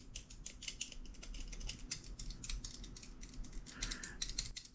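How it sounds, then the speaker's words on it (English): A Microtech Ultratech knife with a loose button is clicked over and over up close, giving quick light rattling clicks in uneven bursts. "The button on the Ultratech is a little rattly."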